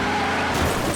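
Several junked cars rumble and roll on a Junkyard Joust demolition derby track, engines droning steadily at close range, with a slight swell of engine noise partway through.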